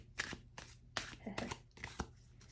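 Tarot and oracle cards being shuffled by hand in a quiet room, a series of soft papery riffles and slaps in irregular bursts, close and faint.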